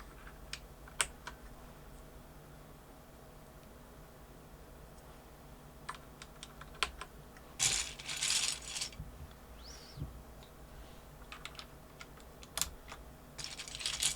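Plastic keycaps are pressed back onto a computer keyboard after being dried, making scattered faint clicks and taps with a brief rattling cluster partway through, quiet and close with no talking.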